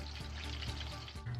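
Crushed red pepper fries in hot oil in a pan, giving a steady, close, continuous sizzle with no talk.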